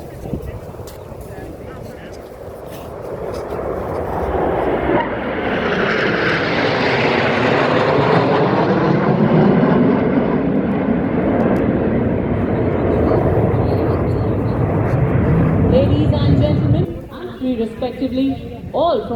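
Military aircraft pass overhead in formation at a Republic Day parade rehearsal, with a roar that swells, peaks for several seconds and falls away abruptly, while an announcer talks over it.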